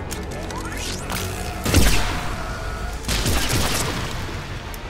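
Arc pistol fire in Mass Effect 3 comes as a few sharp electric blasts with heavy crashing impacts, over a constant roar of game noise and music.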